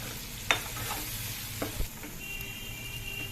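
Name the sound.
masala gravy frying in a pan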